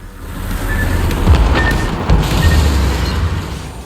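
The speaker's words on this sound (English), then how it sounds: "I took that torpedo in the bow" A torpedo strikes the bow of a German battlecruiser, the Moltke, in a naval warfare game, producing a heavy, sustained low boom and rumble with a few sharper thuds rolling through, loud and close.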